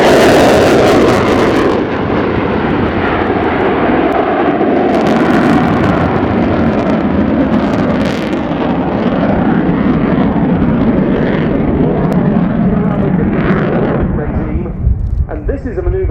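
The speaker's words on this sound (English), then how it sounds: "the Lyulka, or now Saturn, AL-31F turbofan engines are certainly providing thunderous performance" Loud, continuous roar of a Ukrainian Air Force Su-27 fighter's AL-31F turbofan engines during an air show flying display, broad and rumbling, sustained throughout with a voice talking over it.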